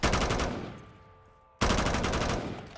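Machine gun fire in Call of Duty Black Ops 3 Zombies, a loud rapid burst of shots that tails off, a short pause with a faint tone, then another sustained close burst.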